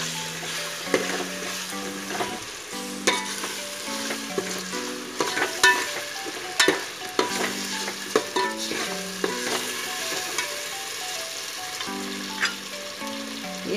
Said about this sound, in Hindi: इसमें हम डालेंगे अदरक लहसुन का पेस्ट और हरी मिर्ची का पेस्ट।